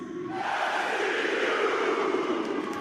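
A wrestling arena crowd at an AEW event roars and chants together, a dense, sustained wall of massed voices that swells in after a quiet start and holds steady.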